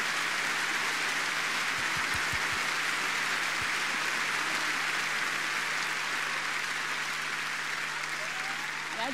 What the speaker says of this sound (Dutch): Geef ze een groot applaus met hun kindjes.